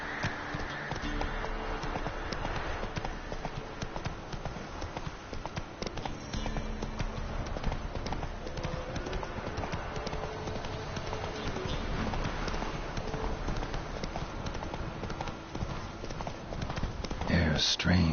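The horse Roach galloping in The Witcher 3, a fast continuous drumming of hooves that runs the whole stretch beneath dense game ambience, with a voice speaking briefly.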